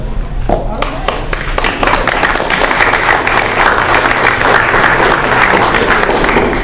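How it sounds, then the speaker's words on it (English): Audience clapping at a 2014 Minnesota Secretary of State candidate forum, a sustained burst of sharp hand claps from a room of listeners, moderately loud and continuous throughout. "Give me all my claps."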